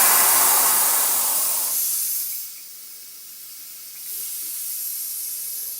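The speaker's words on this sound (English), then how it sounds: "let me turn off the air compressor while I'm saying this" An air compressor feeding an airbrush hisses loudly at first, then its rushing air noise drops away as it is switched off, leaving a fainter hiss that rises again slightly.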